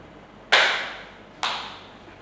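A single sharp hand clap from an audience at a school workshop on positive school culture, followed by a second clap about a second later, each loud and alone in a quiet room.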